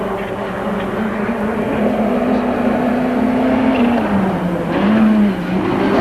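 A rally car at the 1988 Ashley Forest Rallysprint bogs down pulling away from the start line with its low gear set a little high; a steady, strained engine drone sags and wavers in pitch as it labours off the line.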